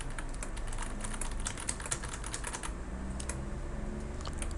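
Fast, continuous typing on a computer keyboard, crisp close key clicks in irregular bursts with a short lull near the middle, no voices.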